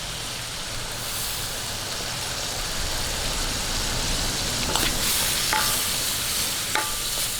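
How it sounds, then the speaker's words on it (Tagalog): Vegetables sizzle steadily in a hot pan with annatto, a continuous bright frying hiss with a few scrapes and clinks as they are stirred, close and fairly loud with no talk. "Ayan, haluin lang po natin."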